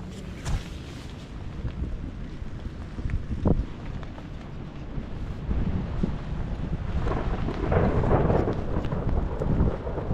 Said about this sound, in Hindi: अभी बारिश हो रहा है, देखिए